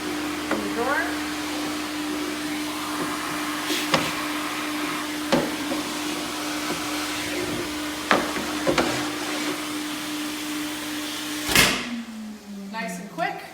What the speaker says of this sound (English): we have a central vacuum system